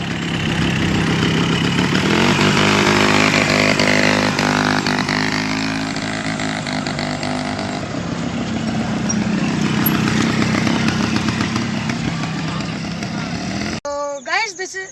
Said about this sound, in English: So now I have rented a bike, and let's take a round of it also.